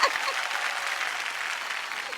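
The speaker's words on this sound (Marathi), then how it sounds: "एकदा जोरदार टाळ्या होऊन जाऊ देत" Studio audience on a Marathi television show bursts into steady, dense applause, many hands clapping together at an even loudness throughout the short burst.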